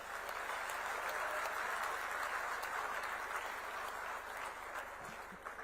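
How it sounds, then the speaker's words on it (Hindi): Steady applause from a large crowd at a government youth event in Rajasthan, sustained dense clapping that fades slightly toward the end. "उनको भी एक बार जोरदार ताली बजाएं"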